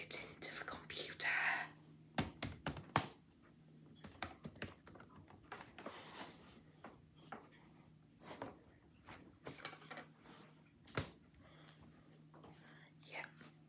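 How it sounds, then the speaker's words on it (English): Soft typing on a computer keyboard in a quiet room, with irregular clusters of light key taps and clicks at close range, mixed with occasional whispering and a faint steady low hum. "I'll now type it into the computer."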